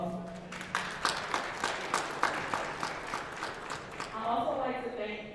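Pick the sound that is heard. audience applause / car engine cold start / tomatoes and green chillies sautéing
audience applause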